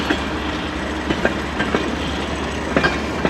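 A CN A492 eastbound freight train passes in Emmett, Michigan, giving a steady low rumble with intermittent clicks of wheels over rail joints at moderate distance.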